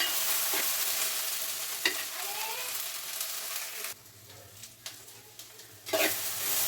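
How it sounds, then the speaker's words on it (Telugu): Okra frying in oil in a pan, a close crackling sizzle broken by stirring scrapes and clicks, fading briefly quieter before rising again. "బెండకాయ అయితే మంచిగా పోయిందండి"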